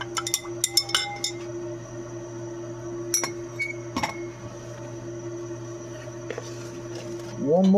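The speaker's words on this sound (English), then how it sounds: "Give this a stir." A glass rod stirring gold solution in a glass vessel while refining karat gold scrap: a quick burst of bright clinks at first, then a few sparse taps over a faint steady hum.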